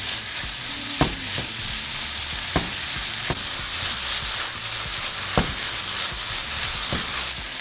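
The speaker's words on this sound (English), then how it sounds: "So we're just going to brown our meat." Steak browns in a hot pan for a quesadilla, a dense, steady sizzle and crackle punctuated by a few sharp clacks of a utensil stirring and scraping, with no talking.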